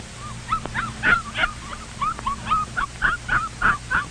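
Puppies in their sleeping box whimper and yip in a quick, uneven string of high, squeaky cries, close by and fairly clear, with no talking.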